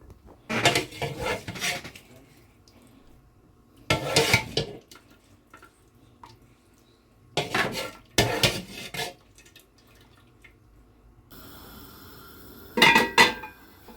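Cow meat for pepper soup being drained and the cooking pot rinsed out, heard as four separate bursts of splashing water and clattering pot, each a second or so long, with quiet kitchen gaps between and a steady hiss entering near the end.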